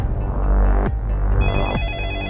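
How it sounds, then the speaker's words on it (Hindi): A telephone rings in a police station scene of a crime drama, its electronic ringtone chirping in tonal bursts over a loud, dense low rumble of background sound, with sharp transients between the rings. "फोन उठा लो।"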